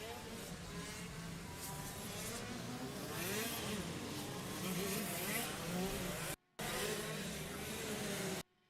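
KZ2 racing karts warming their tyres and brakes on track at the Rose City Challenge, with engines droning and buzzing continuously and loudly and a race commentator talking over them.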